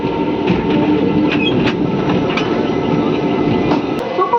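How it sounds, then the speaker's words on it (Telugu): The Palnadu SF Express rolls into Piduguralla station, a loud, steady rumble heard from inside the carriage, with rhythmic clickety-clack of wheels over rail joints and occasional metallic squeaks. "పిడుగురాళ్ళకి మన ట్రైన్ చేరుకుంది."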